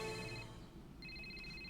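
A telephone rings in The Amazing Spider-Man 2 video game, a bright repeating electronic tone with a short gap midway, heard alone over a low background hum.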